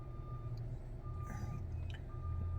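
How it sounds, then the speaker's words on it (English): A tow truck's reversing alarm beeps in a regular, repeating pattern over a low idling engine rumble, fairly close. "The beeping's happening. Our tow truck just got done doing a tow"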